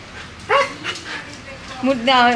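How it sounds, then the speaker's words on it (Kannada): A female dog, tired after grooming, gives short yipping barks indoors, loud and close, several sharp bursts, with people talking alongside. "ಬೊಗಳುತ್ತಿರೋದು ಇವಳು."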